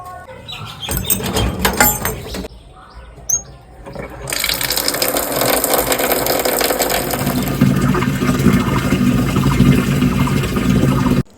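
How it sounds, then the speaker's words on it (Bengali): A plate is washed and bottles are filled with water. Clattering and splashing come first, then a loud, steady gush of running tap water continues close up to the end. "এই একটা মাত্র থালা আছে যেটা ধুতে হবে, আর সাথে একদম অল্প কটা বোতলেই জল ভরবো"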